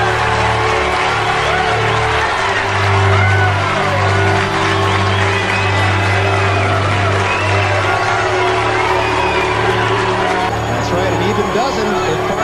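A bowling crowd at a televised PBA semifinal roars, cheers and whoops after a 300 game, loud and sustained throughout, with a commentator's voice over the noise.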